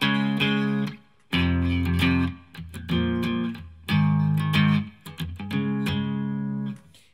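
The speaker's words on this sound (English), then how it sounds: "you kick on some kind of distortion pedal overdrive pedal, grunge pedal, fuzz pedal" Loud electric guitar chords with heavy distortion, strummed in sustained bursts separated by brief silences.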